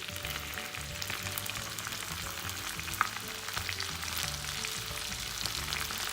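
Chopped onions shallow-frying in very hot oil for a Bombay duck scramble, a dense steady sizzle close by with faint background hum and one brief sharp click midway, no talking.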